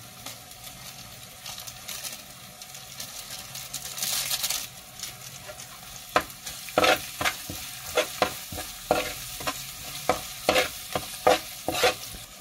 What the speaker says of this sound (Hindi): मसाला बिल्कुल भून चुका है